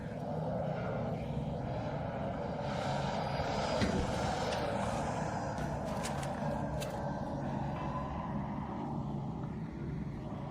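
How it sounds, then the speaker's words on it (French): A bomber aircraft in a video game drones overhead with a continuous, fairly loud engine rumble and a broad whooshing hiss that stays steady throughout, with no speech. "En fait, il y a le bombardier au-dessus."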